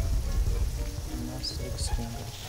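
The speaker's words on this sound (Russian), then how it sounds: "на улице дождь идет, я слышу звук дождя" Steady rain patters and hisses softly in Garry's Mod, a low, continuous wash with a faint low rumble beneath it.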